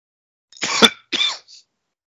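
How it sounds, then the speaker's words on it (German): Two short, close, harsh coughs in quick succession, followed by a faint third catch of breath, with silence before and after. "Das Husten wird immer mehr."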